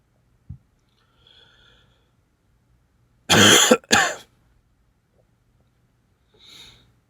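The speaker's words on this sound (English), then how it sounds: "I can't stop gurgling." Throat gurgling and clearing noises come in a couple of short, loud wet bursts in the middle, with a few fainter throat sounds scattered around them in an otherwise quiet room.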